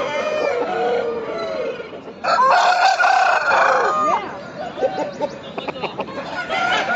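Roosters crow loudly and near at a pet market, one long cock-a-doodle-doo rising above clucking chickens, with more crowing and clucks following in the busy surroundings.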